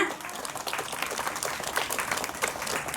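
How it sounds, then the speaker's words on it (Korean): An audience at a 2024 Hongseong community welfare fair applauds a performing arts troupe, with steady, dense clapping filling the whole stretch at moderate volume. "지금까지 이렇게 함께 해준 우리 공감예술단에 큰 박수 한번 부탁드리겠습니다"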